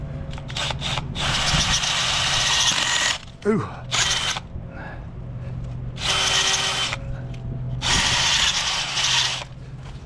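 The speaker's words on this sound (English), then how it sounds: "I'm gonna drill a few more in this thing" A power drill bores holes into a hardwood tree stump in bursts of loud whirring and grinding, with several separate runs of the drill separated by short pauses; someone speaks briefly between bursts.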